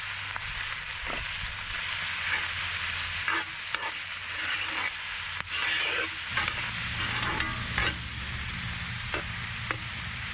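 Bacon, sausage, smoked brats and onions frying in a pan, a steady close sizzle broken by repeated scraping stir strokes, with no talking.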